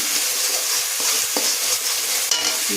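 Turmeric spice paste sizzles loudly in hot oil with a continuous crackling hiss, while a spoon scrapes and stirs through it in a few distinct strokes close by.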